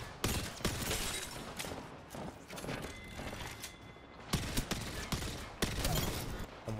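Automatic gunfire in Apex Legends, rapid dense bursts of shots with mechanical weapon clatter, loud and continuous with a few sharper volleys standing out, no talk.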